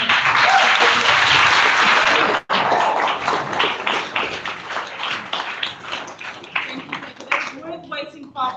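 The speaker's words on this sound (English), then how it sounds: "big round of applause for Shamila." A conference audience applauds a speaker, strong and sustained clapping that briefly cuts out, then continues more unevenly while voices talk underneath.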